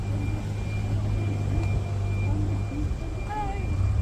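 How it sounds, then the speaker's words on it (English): Low rumble of car engines idling and moving nearby in a back car park, steady throughout, with faint voices in the background. "Cars in our back car park. Did you hear that?"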